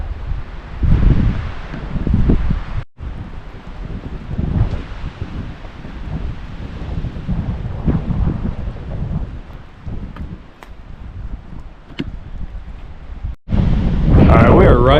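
Strong wind gusts across a rock outcrop overlook below Chestnut Bald in the mountains, buffeting the microphone in loud, uneven roaring surges with rustling in between and two brief dropouts.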